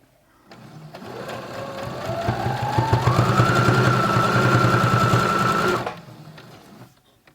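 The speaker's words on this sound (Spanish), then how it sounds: "Le añado 2 capas más de fieltro para que veáis que acumulación de telas también las cose muy bien." A Brother CS10 sewing machine stitches through stacked layers of felt, one continuous whirring, rapid needle run that rises in pitch as it speeds up, loud and close, then stops abruptly.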